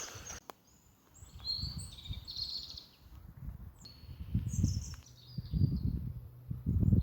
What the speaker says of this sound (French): Les bruits d'oiseaux.